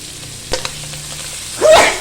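Chili frying in a hot pan, a soft crackling sizzle with a couple of sharp pops early on, then a louder burst of spitting and hissing near the end as the pan flares up.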